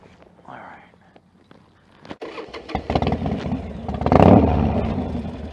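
A Harley-Davidson Sportster 1200 motorcycle starts after a short quiet pause, then settles into a loud, close, rumbling idle that swells briefly midway. Soft whispering voices come just before it catches.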